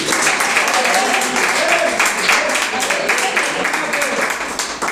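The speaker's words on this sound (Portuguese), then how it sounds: "Palmas para Jesus." Church congregation clapping loudly and continuously during a worship service, a dense wash of claps with voices mixed underneath.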